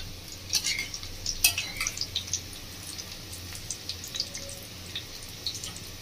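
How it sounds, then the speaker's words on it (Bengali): Rohu fish fingers fry in a pan of hot oil while a spatula stirs them, giving steady sizzling with light scraping and clinking, close and moderately loud. "যখনই তেল থেকে উঠে আসবে বন্ধুরা তখন একটু খুন্তি দিয়ে নাড়িয়ে নেবেন।"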